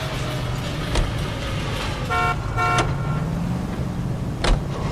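A car driven in the video game L.A. Noire gives a steady engine rumble, with a couple of short horn toots near the middle and a few sharp clicks and knocks, and no speech.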